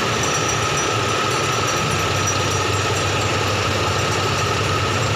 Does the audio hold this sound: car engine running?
yes